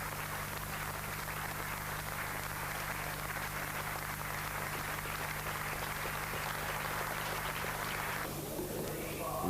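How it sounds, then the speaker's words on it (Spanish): A crowd applauds Frank Williams at a 1986 Formula 1 race, a dense, steady wash of clapping from a large audience under a low constant hum, heard from a distance. "ser aplaudido por el público"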